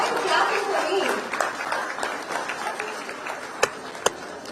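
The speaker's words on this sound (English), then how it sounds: "She's like, why are you clapping for me?" An audience at an awards ceremony applauds a stage translator, with dense clapping that fades while a voice speaks over it, ending with a couple of sharp single claps.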